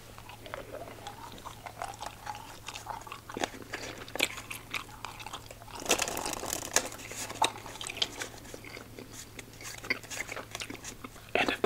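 Several pieces of Ice Cubes strawberry daiquiri gum are chewed very close up, with wet, crunchy bites and squelchy mouth sounds in an irregular rhythm. A burst of harder crunching comes midway, and there is no talking.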